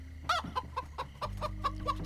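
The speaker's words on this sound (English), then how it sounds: "It's a chicken." A chicken in Minecraft: Story Mode clucks repeatedly in short, close, evenly spaced bursts, about eight clucks over a low steady background hum.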